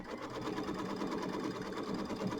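A Kimberbell embroidery machine stitches a tack-down line on fabric for a mini quilt, giving a steady, close, continuous mechanical whir and rapid needle chatter without pause.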